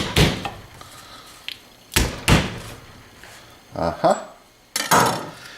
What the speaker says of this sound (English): Step one, we're going to smash the garlic.